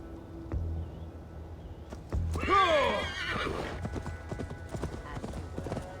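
A horse in the Assassin's Creed Valhalla video game, ridden through a Gloucestershire forest, gives a loud, close whinny midway, with clip-clopping hooves striking steadily throughout.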